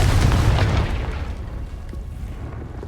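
A Confringo blast spell from Hogwarts Legacy goes off as a loud, heavy boom in the first second, then decays into a rumbling tail that lingers under the game's ambience.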